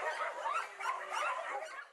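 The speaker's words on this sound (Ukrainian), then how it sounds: "Дзвінки, гавкіт замість пошуків дзену" Several dogs bark and yip in a busy overlapping chorus at a Buddhist monastery animal shelter near Shanghai, heard at moderate distance with no talk.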